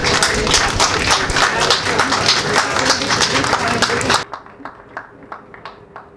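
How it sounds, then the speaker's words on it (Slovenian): A crowd applauds at the opening of an art expo in Slovenia, full and loud for about four seconds before dropping off abruptly to a few scattered, fading claps. "Tako da še en aplavz,"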